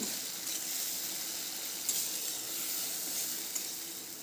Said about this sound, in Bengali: এবার ওই একই তেলের মধ্যে আমি দিয়ে দিচ্ছি পেঁয়াজ রসুন জিরে বাটা পাকা লঙ্কা বাটা